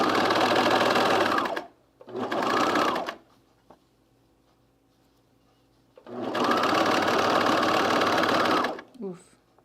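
A sewing machine stitches a men's fleece pullover underarm seam in two bursts, a short one and a longer one, loud and close, with a quiet pause between them.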